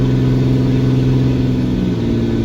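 Ram 2500 pickup truck engine pulling a 15,000 lb load, a steady loud low-pitched drone with a faint rise in revs, continuous for the whole stretch with no talk.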